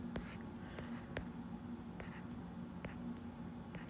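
Handwriting during a lecture on dimensional analysis, with soft scratchy strokes and a few sharp taps repeating every second or so, close and quiet over steady room hum.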